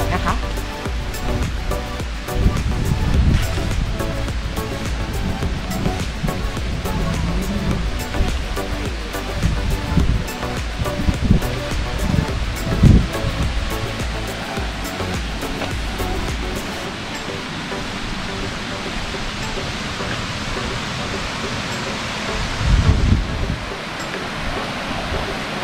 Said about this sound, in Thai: ได้ยินเสียงน้ำตกด้วยนะคะ